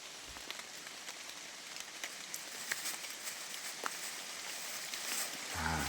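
Steady rain falls in a forest, a dense even patter on leaves and ground with scattered louder drops, heard faintly and without talk.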